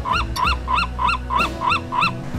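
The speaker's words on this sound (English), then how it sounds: "There's a bunch of ducks." Ducks in San Francisco call in a steady series of about seven nasal, honking quacks, evenly spaced and close by, loud against a low background rumble.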